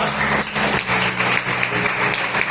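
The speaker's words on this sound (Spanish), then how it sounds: "¿Por qué no damos un fuerte aplauso a esa maravillosa" A congregation at a Spanish-language church service applauds loudly together, a dense steady wash of many hands clapping that fills the whole stretch with little variation.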